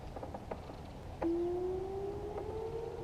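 A tornado siren test at noon: a steady tone rises slowly and holds, sounding distant over faint outdoor background noise, with a few brief knocks earlier.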